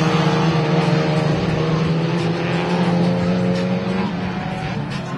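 Race car in a Brazilian Mega Space touring-car round, engine droning steadily at close range with a slowly falling pitch, loud throughout with no voices.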